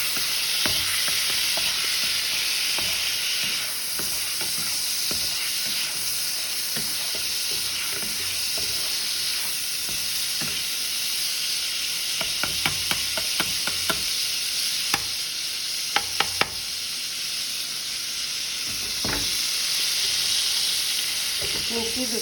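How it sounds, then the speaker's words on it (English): Seasoning being stirred around a sizzling non-stick frying pan, with a steady loud frying hiss throughout and a few soft scraping clicks of a spatula partway through, no talking. "add some more of the wonderful seasoning. Let's stir it around."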